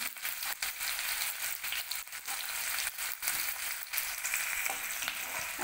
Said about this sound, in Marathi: यामध्ये आता आपल्याला कांदा परतून घ्यायचा आहे